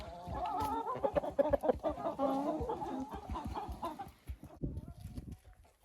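Several chickens cluck and murmur close by while being tossed food on a country plot, a dense run of overlapping clucks that thins out toward the end.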